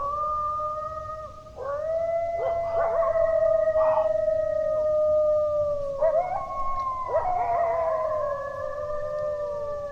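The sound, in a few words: pack of coyotes howling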